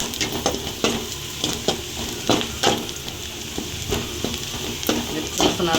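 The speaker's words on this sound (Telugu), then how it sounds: "వెల్లుల్లి ఎరగలు ఫ్రై అయ్యాయి కదా. ఇప్పుడు మనం టమాటా వేసుకోవాలి." Tomatoes tossed into a curry pan of frying garlic for a drumstick curry: a close, steady sizzle with repeated scraping stirs and clacks at an uneven rhythm, and a voice talking over it.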